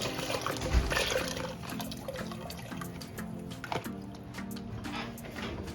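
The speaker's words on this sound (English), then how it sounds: "So just pouring that into the pan, just squeeze it in." Chicken broth pours and splashes into a pan of potatoes, a continuous watery trickle with intermittent drips and squeezes, close and moderately quiet.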